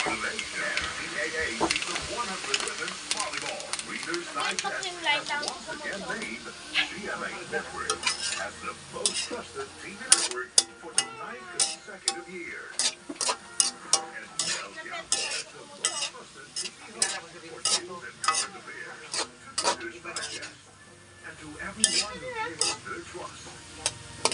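Soy sauce goes into a pan of adobong kangkong with kikiam, a soft sizzle under repeated scraping and clinking of a utensil against the pan as the mix is stir-fried, with a voice talking over much of it.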